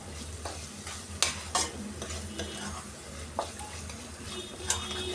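Fish pieces washed with turmeric fry in a pan for a Telugu-style fish curry (chepala pulusu), giving a steady sizzle with several sharp clinks and scrapes of a spatula against the pan, and no speech.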